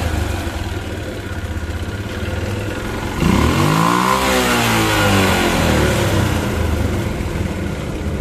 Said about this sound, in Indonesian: kalau udah hidup kita langsung hidupin motornya